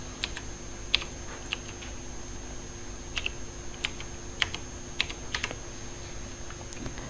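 Keys on a computer keyboard are tapped as a password is entered into stock trading login software, giving sparse, irregular clicks in small clusters over a faint steady background hum.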